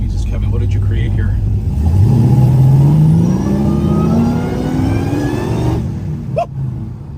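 A muscle car with a Hellcat engine and a 3-speed 727 manual transmission revs hard, its loud engine note climbing steadily in pitch and then settling back to a rumbling idle, close by with someone talking over it.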